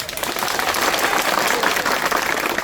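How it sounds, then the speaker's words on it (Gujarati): A community meeting audience claps together in a dense, sustained round of applause, many hands at a steady pace with a faint crowd murmur beneath, loud and continuous throughout. "અને આજ તમે આજ તાળી પાડો છો ને"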